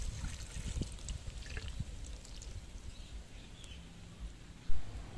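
Water trickles and splashes softly onto onion plants set in an egg tray, a gentle continuous pour with scattered drips, with faint birdsong in the background.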